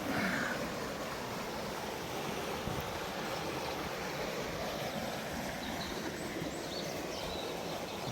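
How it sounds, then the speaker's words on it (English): A river near Trabadelo on the road to O Cebreiro rushes in a continuous, even wash of flowing water, close and steady for several seconds with no voices. "We've got the river right here."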